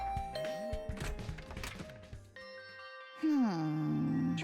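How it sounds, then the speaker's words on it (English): A doorbell in The Hundred Line video game rings with a bright, sustained ding-dong chime that follows a busier passage of game sounds. "I rang the bell."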